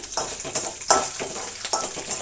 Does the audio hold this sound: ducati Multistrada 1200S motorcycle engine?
no